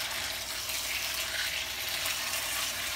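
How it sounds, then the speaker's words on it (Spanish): Chicken with jalapeño stir-frying in a pan for a Chinese-style dish, a steady, even sizzle that stays close and constant with no talking over it. "vamos a estar guisando hasta que veamos que ya está bien, bien doradito"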